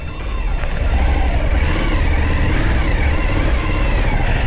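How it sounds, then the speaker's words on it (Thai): A Suzuki big bike engine runs with a smooth, low, mellow exhaust rumble, steady and close throughout. "เสียงท่อโคตรนุ่มเลย"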